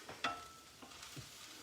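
Leafy greens dropped into a hot skillet with a Cuban-style black bean and chicken sausage mix, giving a quiet sizzle with a few soft stirring scrapes near the start.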